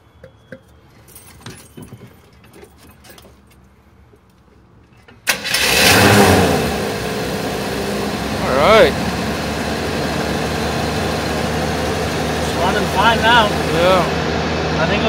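A 1985 Chevy G10 work van engine cranks and catches after a quiet stretch with faint key jangling, then settles into a steady, loud idle, with occasional voices talking over the running engine.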